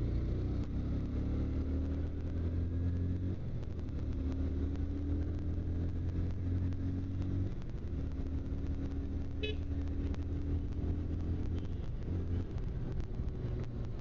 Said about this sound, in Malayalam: ഒരു ട്രാഫിക്കിലൊക്കെ ഓടിക്കുന്ന സമയത്ത് തേർഡ് ഗിയറിലൊക്കെ വന്ന് ഫുൾ കൈ റിലീസ് ചെയ്യുന്ന സമയത്ത് ആ ഒരു സൗണ്ട്